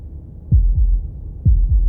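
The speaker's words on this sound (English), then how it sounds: "That was the sound of a heartbeat" A deep, booming heartbeat from the video game Slay the Princess, two double thumps in a lub-dub rhythm, loud and close over a low hum.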